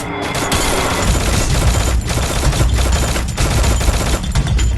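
Rapid, continuous automatic gunfire from the video game Garena Free Fire, loud and dense, with bursts running back to back for the whole stretch and no pauses.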